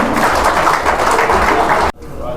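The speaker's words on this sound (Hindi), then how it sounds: "तालियों का सिलसिला जारी रहे" Audience applause at a Haryana political felicitation event runs dense and steady, mixed with crowd murmur, then cuts off abruptly near the end, leaving quieter room noise.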